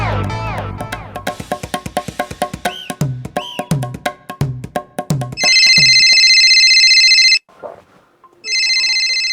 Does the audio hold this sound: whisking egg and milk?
no